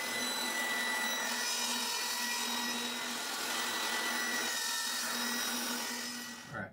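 A 3/4 inch thick, 2-foot square wooden board is cut into quarters with a power saw, giving a steady loud whine and grind that runs almost the whole time before cutting off abruptly at the end.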